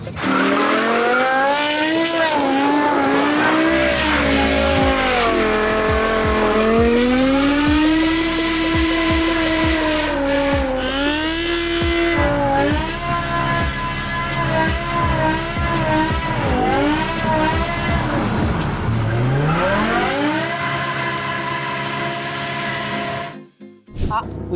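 BMW M5 doing a tire burnout, engine revving hard in rising and falling sweeps over continuous tire squeal, loud and close for most of the stretch before cutting out near the end, with people talking over it.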